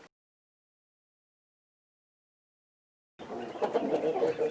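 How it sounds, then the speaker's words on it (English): After several seconds of silence, chickens murmur and cluck softly nearby in a low, continuous chatter. "a little bit of talking from the chickens you can probably hear in the background"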